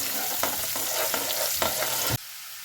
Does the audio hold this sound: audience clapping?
no